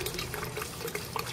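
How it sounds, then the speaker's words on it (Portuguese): Water falls freely by gravity into a fish tank to oxygenate it. It makes a steady, soft splashing rush with no other sounds. "E agora por queda d'água livre, hein? Só por gravidade."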